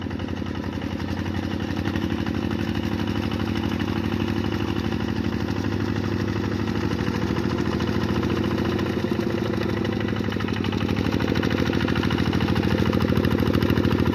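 A 140 ZT model engine runs steadily and loud, a close buzzing drone with a rapid even pulse that holds throughout.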